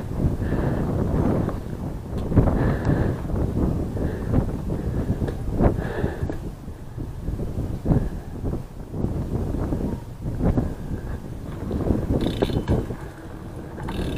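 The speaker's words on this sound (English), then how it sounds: "Fucking wind blowing" Gusty wind buffets the microphone outdoors in steady low roaring rumbles that swell and ease, with no talk.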